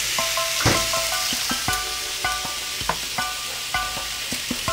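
Mushrooms and a little light butter sizzle and crackle in a hot pan for a mutton snapper sauce, a close, steady fry with frequent sharp pops and spits.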